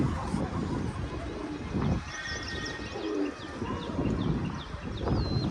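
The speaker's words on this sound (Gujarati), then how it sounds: "કબૂતર આપણા બધા અંદર બેઠા જો ને બધા" Pigeons coo softly inside their loft with nesting boxes, low throaty calls repeating close by with a few chirps and faint background noise.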